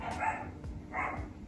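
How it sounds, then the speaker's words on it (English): Dogs barking indoors, two short bark bursts spaced about a second apart, moderately close and fairly loud, with no talking over them. "my dogs are just deciding to bark now"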